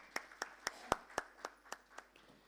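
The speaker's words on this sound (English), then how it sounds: "Can we have a huge round of applause for the gentleman?" Sparse, distinct hand claps at a dairy science panel event, a slow run of about nine separate, evenly spaced claps, faint and isolated rather than a full crowd ovation.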